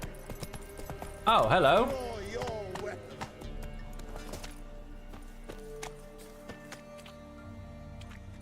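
Hooves of Roach, Geralt's horse in The Witcher 3, clopping in at a trot with a loud whinny near the start, followed by steady footfalls under a brief spoken greeting.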